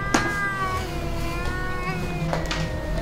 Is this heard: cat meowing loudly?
yes